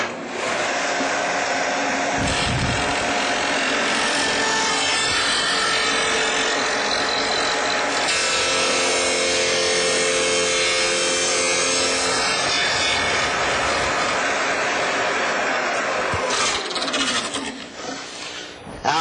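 A Shopsmith saw cuts a dado in wood, a loud, steady whining roar that runs almost unbroken for the whole stretch, with a few brief knocks, before easing off at the very end.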